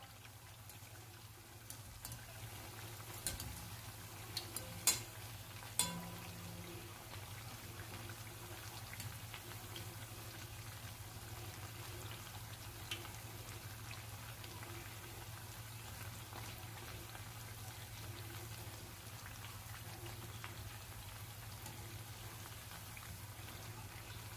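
Bhajani chakli fry in hot oil with a soft, steady sizzle and fine bubbling, faint and continuous, with a few light clicks and taps near the start.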